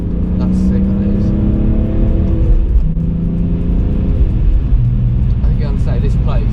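A Porsche runs fast around the Nürburgring, its engine a loud, steady roar with shifting pitch as it passes close, and someone talks over it.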